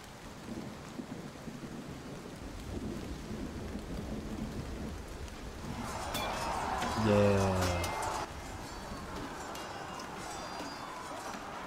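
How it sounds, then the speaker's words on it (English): Rain and thunderstorm sound effects played during a tabletop fantasy battle session: a constant hiss of rain with a swelling rumble of thunder partway through, alongside a brief tonal chirp. "you should be hearing battle sounds and dark and stormy sounds"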